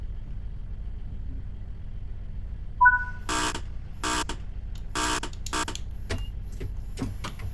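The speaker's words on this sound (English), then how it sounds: "Let's wait for the buzzer." In Train Sim World 5, an EMT Class 158 train's door sounds: a short two-tone electronic chime, then a series of loud broadband buzzing bursts repeating at a steady pace, with fainter clicks trailing after.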